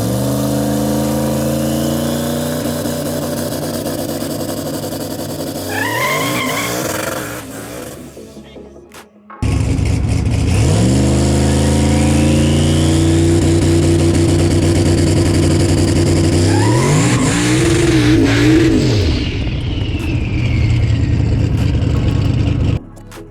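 A Cadillac CTS-V with wastegate dump pipes does two-step launches on an unprepped surface beside a building, loud close engine rev and popping limiter bursts, a cut, then another hard launch with climbing revs and wheelspin.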